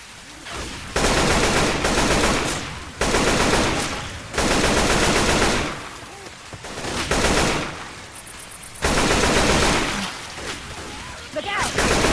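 Assault rifle gunfire in the Left 4 Dead 2 video game during heavy rain, loud sustained automatic bursts of a few seconds each separated by short gaps, close up, with game voices calling out briefly.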